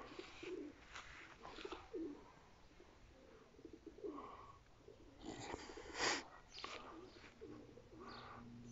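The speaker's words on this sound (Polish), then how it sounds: "to są młode gołębie." Soft, low coos of young pigeons repeat at a moderate distance, with occasional louder bursts and faint rustling in between, and no talking.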